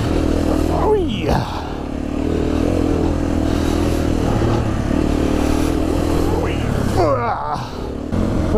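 A 2020 KTM 350 EXC-F enduro motorcycle runs close and loud throughout, engine droning steadily with a couple of sharp throttle rises and falls near the start and end, plus some clatter.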